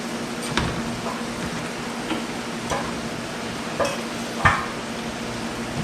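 Butter sizzling in an overheated pan, a steady close frying hiss with scattered light clicks and taps of a utensil, no voices.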